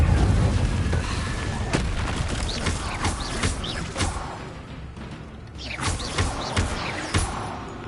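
Repeated Incendio fire spells cast in Hogwarts Legacy during combat, a run of sharp bursts and whooshing blasts over rumbling booms, loud and frequent, with a short lull midway before more casts.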